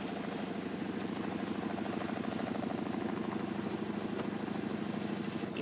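A rescue helicopter hovers close by, its rotor chop a steady, loud, rhythmic thudding over a constant engine whine, with no voices.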